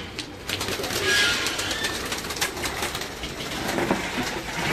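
Breeder pigeons kept in pairs coo softly and repeatedly in their loft, close by with faint flutters and rustling around them and no talk.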